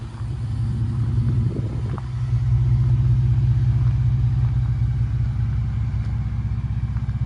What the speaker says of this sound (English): It surely doesn't sound like the typical EcoBoost.